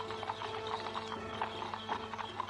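At night a running horse-drawn carriage passes, hooves beating a rapid steady clip-clop with faint rattling of the carriage, moderately close over a low hum, no voices.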